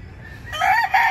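A backyard game fowl rooster kept for cockfighting crows once, loud and close, after a brief stretch of low background rumble.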